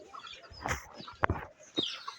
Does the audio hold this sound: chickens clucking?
yes